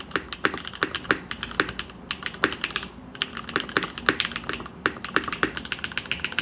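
Fast, continuous typing on a Krush65 top-mount mechanical keyboard with Mill-Max sockets and O-rings. Clicky keystrokes sound close, slightly hollow and fairly loud, with occasional brief pauses and no speech.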